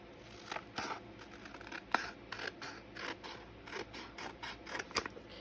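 Scissors snip through a paper envelope in a quick run of close, crisp cuts, with short pauses between bursts and no talking.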